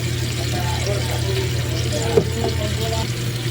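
Water poured into a pot of adobo chicken feet with soy sauce and vinegar, a steady low trickling gush under a constant hum, close, with a brief clink midway.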